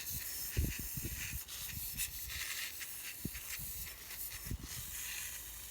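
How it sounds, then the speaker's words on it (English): A pressure sprayer on a subsistence dairy farm gives a faint, continuous hiss of spray with a few soft knocks and handling noises. "If you got one of these pressure sprayers though, you can just pump it up a couple times and it'll do the same thing as what that squirt bottle did"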